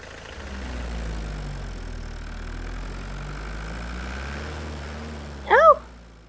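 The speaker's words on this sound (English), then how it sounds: "Now this tractor can take the fruit to the market." A cartoon tractor engine chugs at a low, steady idle, moderately loud and close, with a short squeaky chirp near the end.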